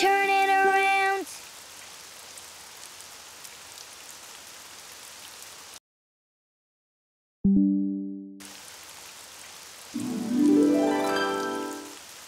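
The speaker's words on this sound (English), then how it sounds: "Oh, it's raining outside." Rain falling outside in the children's game Daniel Tiger's Neighborhood, a soft steady patter broken by a silent gap, with short tonal chimes and melodic effects sounding over it.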